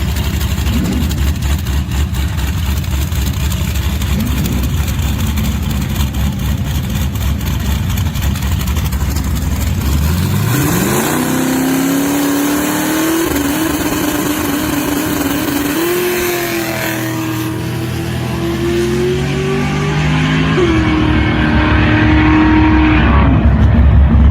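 A loud race car engine roars steadily, then the pitch climbs through rapid gear changes as it accelerates hard past, close and continuous.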